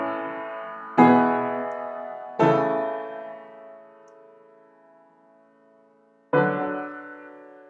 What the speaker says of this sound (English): when we hear that passing 6/4 progression, it sounds like this